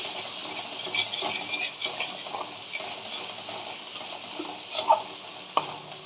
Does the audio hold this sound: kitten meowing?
no